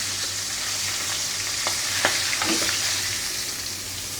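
Fish lightly frying in a pan, a loud, dense, continuous sizzle with a few faint scrapes of stirring underneath and no voices.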